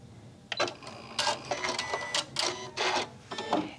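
A Janome Continental M7 sewing machine stitches a quarter inch seam through fabric, its needle chattering in several short rapid bursts with brief pauses between, close and fairly clear.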